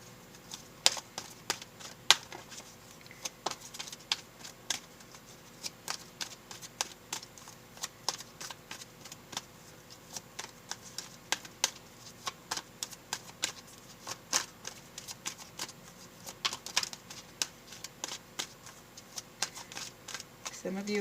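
Tarot cards are shuffled over and over, a dense run of crisp riffling clicks and taps that carries on steadily at close range without any voice.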